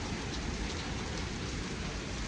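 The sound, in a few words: heavy rain during storm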